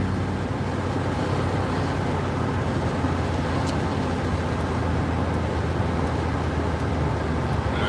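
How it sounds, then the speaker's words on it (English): Truck engine running without a muffler, a constant loud low rumble and roar heard from inside the cab for the whole stretch, with no one talking. "enough background noise between the engine with no muffler"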